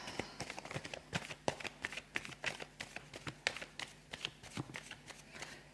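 A deck of tarot cards is cut and shuffled close up, with a steady run of crisp riffling flutters and slaps that continue through the whole stretch, and no voice over them.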